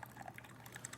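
Water streams steadily from the group head of a Breville espresso machine, a faint continuous splashing flow lasting about a second.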